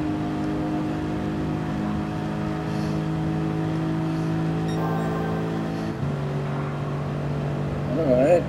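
Racing engines in a Gran Turismo GR3 sim race at the Daytona road course, with the Lexus and Porsche jostling; steady droning engine tones hold throughout, shifting pitch midway as cars change gear, while a voice talks over them.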